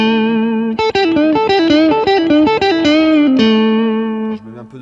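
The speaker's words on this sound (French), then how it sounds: "je vais mettre un peu de distorsion, un peu de poil, tu vois, sur le son" A distorted electric guitar plays a quick melodic phrase, notes sustaining with a thick, buzzy tone before ringing out and fading.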